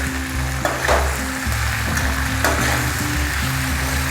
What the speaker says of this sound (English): I'm finding it difficult to stir it and mix it properly